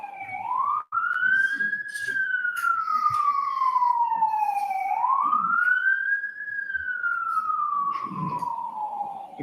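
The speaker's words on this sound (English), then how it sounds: "let me just let the siren hold on" An emergency siren passing outside a courtroom, a loud continuous wail that rises and falls in two long sweeps with faint room murmur underneath.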